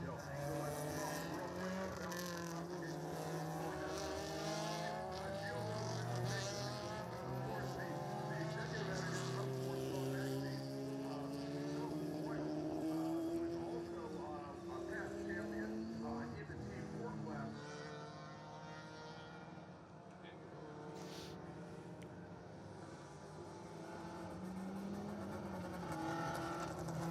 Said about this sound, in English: The pace lap for E-Production is underway here at Sonoma Raceway.